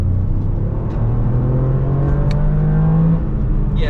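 A Toyota GR Yaris pulls hard from inside the cabin, its engine note a loud, smooth whir that climbs steadily in pitch as it accelerates over a few seconds.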